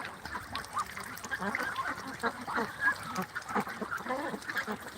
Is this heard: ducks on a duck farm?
yes